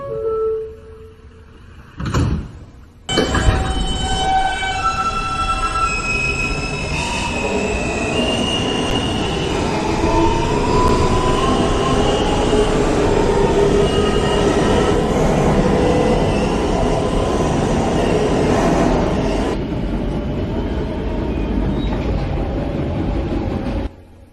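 A New York City subway N train bound for Ditmars Boulevard runs toward Broadway, heard from inside the car as a loud, steady rumble with high, drawn-out wheel squeals after a brief quieter start.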